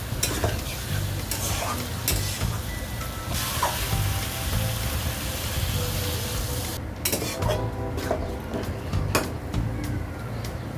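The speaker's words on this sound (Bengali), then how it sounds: "এবার একটু নেড়ে ছেড়ে হালকা একটু জল দেবো" Prawns and raw mango pieces being stirred as they fry in a pan, with a loud continuous sizzle and repeated scraping strokes of a spatula throughout, close up with no voices.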